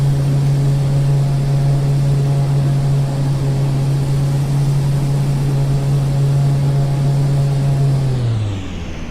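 The Milviz Porter's engine drones loud and steady in the flight simulator as the aircraft turns to line up with the runway, a constant hum that winds down at the very end.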